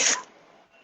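One short, sharp sneeze bursts out close by, followed by quiet.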